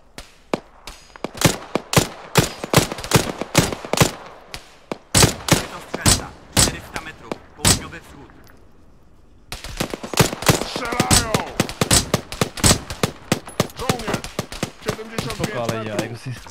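Rapid video game gunfire in sharp repeated bursts and single cracks, loud and close, pausing briefly in the middle before dense volleys resume with overlapping shots.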